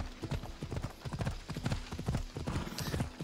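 Horse hooves clip-clop steadily in Assassin's Creed Odyssey, a quick repeating gallop rhythm up close, loud and continuous with an occasional faint snort and no talking.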